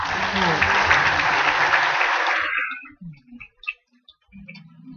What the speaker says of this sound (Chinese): 那给他们一个很热烈掌声，好不好？